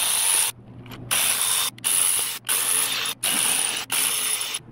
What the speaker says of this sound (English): let's start removing the 8mm intake bolts